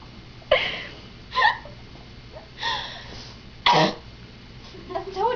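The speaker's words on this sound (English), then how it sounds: "Just a cough." Several separate coughs and throat-clearing bursts from one person, close and sharp, spaced irregularly with brief breathing between them.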